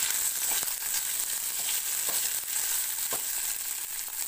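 Cashews and a cup of cooked rice fry in a pan, giving a steady, even sizzle with faint crackles throughout and no voices.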